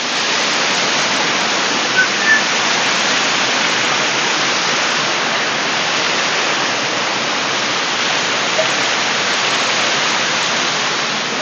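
Pha Kluai Mai waterfall in Khao Yai National Park pours in a constant, loud hiss of falling water, unbroken and even throughout with no talking.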